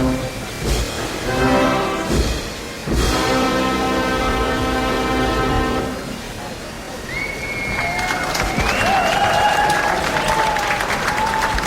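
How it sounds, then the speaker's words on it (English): A crowd lining the Lewes Bonfire procession claps and cheers as it passes, mixed with brass band music, loud and close, with whistles and a commentator's voice over the noise. "Huge round of applause from the crowd there."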